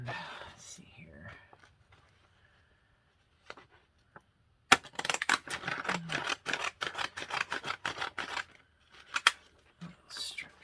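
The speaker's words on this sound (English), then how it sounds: "I'm going to cut me a strip." Scissors cut a strip of gelli-printed paper for a mixed media dress form craft, a run of quick, close snipping crunches after a soft whispered voice and some quiet handling.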